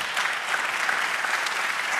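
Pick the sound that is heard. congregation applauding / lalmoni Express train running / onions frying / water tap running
congregation applauding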